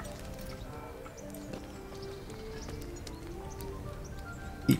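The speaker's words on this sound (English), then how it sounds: "I just want to get off the horse." A horse's hooves clip-clop steadily at a walk in the medieval video game Kingdom Come: Deliverance, quiet and close, with faint birdsong in the background.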